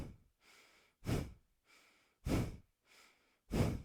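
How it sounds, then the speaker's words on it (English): Rapid yogic Bhastrika fire breath: forceful nasal exhalations alternate with softer inhalations in a steady pumping rhythm, close and clear, with no talking. "add Bhastrika, a little fire breath."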